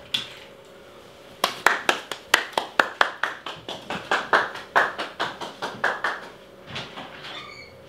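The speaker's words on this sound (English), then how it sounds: "clapping my hands, and return." Hands clap sharply about two dozen times in a fairly steady rhythm, close and loud against a quiet indoor room, tapering off near the end during a dog relaxation exercise at a doorway.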